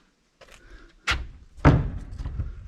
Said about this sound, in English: Spring loaded door.